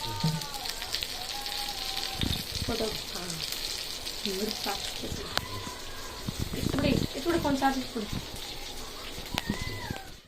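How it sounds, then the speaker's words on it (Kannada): Fish frying in hot oil in a home kitchen, a steady crackling sizzle like light rain running throughout, with scattered clinks and a person talking intermittently over it. "ಒಂದು ಎಣ್ಣೆ ಹಾಕ್ತೀನಿ ಫ್ರೈ ಆಗಲಿ ಚೆನ್ನಾಗಿ"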